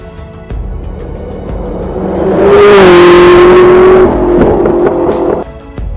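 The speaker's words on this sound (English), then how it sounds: "The SSC Tuatara." SSC Tuatara hypercar engine revs up hard to a loud, sustained high-pitched howl near the microphone for a couple of seconds, then eases off and fades slightly.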